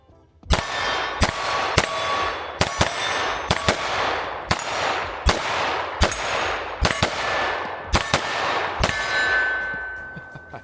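A pistol fires on a shooting range, about a dozen sharp, loud reports at an irregular steady pace, each followed by a ringing metallic decay.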